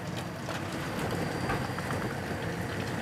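Eggs frying in a pan for a stir-fry of egg and cabbage, a steady close crackle and sizzle of hot oil with no talk over it.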